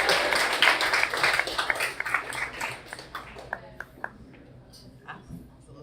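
Audience applause at a benefit event in Athens, with dense clapping from a crowd that thins into scattered individual claps before fading, speech-like sounds mixed in.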